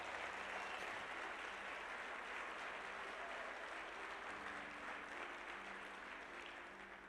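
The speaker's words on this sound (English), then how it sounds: "Give yourselves a round of applause." Audience at a motivational speech applauding, dense steady clapping from a large crowd that holds throughout and eases slightly toward the end.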